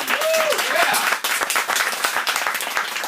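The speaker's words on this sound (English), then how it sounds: "please, round of applause for Kevin and Geek Comedy Night" An audience at a geek-themed comedy night breaks into lively applause and cheering, loud at first and then thinning into scattered individual claps toward the end, with a voice briefly heard over it.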